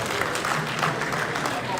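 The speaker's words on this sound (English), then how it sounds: "Please give a round of applause for him for that." Audience applause at a leadership forum, a steady wash of clapping from a crowd, sustained and fairly loud with murmuring voices mixed in.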